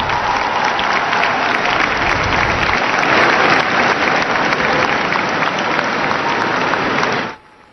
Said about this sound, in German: Die Besucher der Messe klatschten Beifall